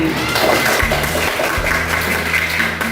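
A classroom of students claps together for classmates who answered questions in a lesson, a steady wash of applause lasting a few seconds with a low hum running underneath.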